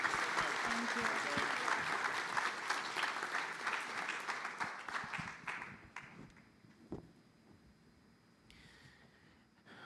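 An audience at a World Tourism Day event applauds with dense clapping that thins out and fades to scattered claps over several seconds, ending near quiet.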